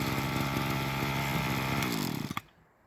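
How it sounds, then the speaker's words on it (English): A two-stroke petrol strimmer engine runs loud and steady close by, a buzzing drone with a rattling idle texture that cuts off abruptly near the end, leaving quiet. "It's a slightly different sound, because the engine is doing all of the things that an engine should in just 2 strokes of the piston."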